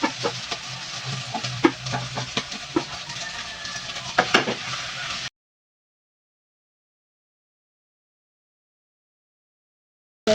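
Corn kernels sizzle in rendered pork fat while being stirred, a continuous hiss with clicking scrapes and taps of a utensil for about five seconds, then abrupt silence until a brief burst at the very end.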